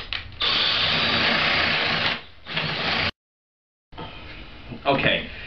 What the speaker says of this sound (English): cut a hole in the front entrance of our birdhouse